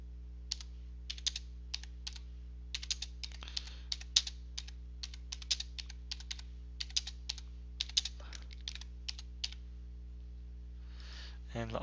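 Bursts of quick, light clicks as someone types on a computer keyboard, close and fairly quiet over a steady electrical hum, with short pauses between words and a brief murmur of speech near the end.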